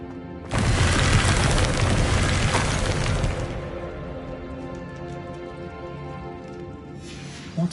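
Confringo blasting spell in Hogwarts Legacy erupts into a loud, sudden explosion that roars for a few seconds, then fades into a softer crackling rumble that lingers before a small pop near the end.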